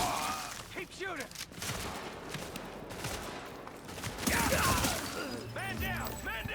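Video game shootout gunfire crackles in rapid bursts, overlapping shots at moderate distance, mixed with other game sounds and faint background activity.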